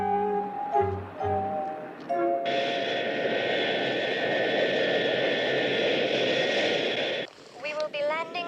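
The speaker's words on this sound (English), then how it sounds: "Miss Russell, get me a seat on the night plane for Paris." Night passenger plane to Paris in flight, a steady broad engine roar and cabin drone lasting about five seconds, preceded and followed by brief tonal notes.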